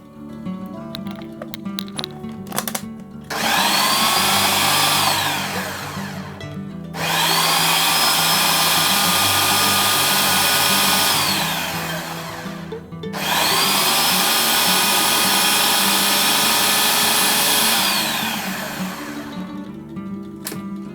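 A kitchen blender rough-chopping crayfish, three long whirring runs separated by short pauses, loud and close, with the motor pitch rising as each run starts and winding down at the end.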